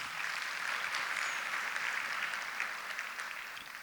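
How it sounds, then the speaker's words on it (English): Steady applause from a crowd at a youth business awards ceremony, continuous clapping at moderate volume throughout, with no voices standing out. "So if we can give BYD a big round of applause"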